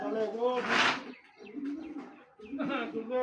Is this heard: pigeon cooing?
yes